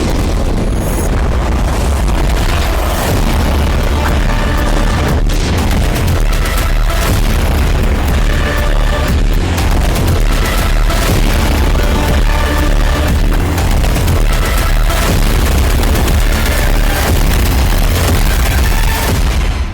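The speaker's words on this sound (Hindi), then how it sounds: "खार्किव पर रूस के मिसाइल हमले से जोरदार धमाका हुआ और पूरा इलाका दहल गया।" Russian missile strike on Kharkiv produces heavy booming explosions and a dense, continuous roar of blasts and rumbling, very loud throughout.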